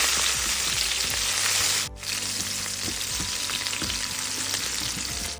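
Green chilies and onion fry in hot oil for a bottle gourd gravy, making a loud, steady sizzle with a brief dip midway and scattered small crackles and stirring sounds.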